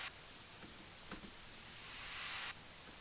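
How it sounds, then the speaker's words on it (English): A white-noise riser effect swells steadily louder in a beat just before the first verse, then cuts off abruptly, with a few faint soft clicks underneath and no voices. "We had a little riser right before it comes into the first verse."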